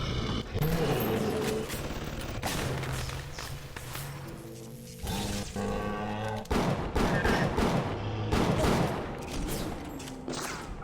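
An automated turret in a video game fires loud, rapid bursts of gunfire with short gaps between them, mixed with heavy thuds and other combat noise.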